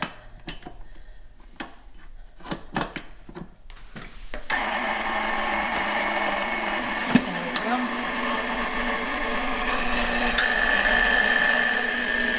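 An electric mixer whirs steadily as it blends flour, salt, sugar and powdered sugar in a bowl for Slovak poppyseed, apricot and nut bread. Short clicks and bumps come first, then the motor runs on, moderately loud and alone.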